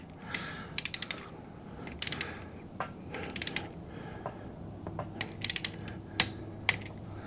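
Ratchet wrench clicking in short bursts while bolts are torqued on a Suzuki DR650 engine case, close and crisp, with quieter metallic taps between the bursts.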